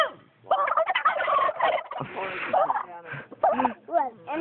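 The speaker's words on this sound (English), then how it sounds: "You're noisy. Turkeys." Turkeys gobble in a loud, rapid series of warbling calls, several birds overlapping close by, with people talking over them outdoors at feeding time.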